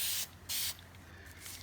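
Two short, sharp hissing bursts from a spray can, close by, with a faint lingering hiss between and after.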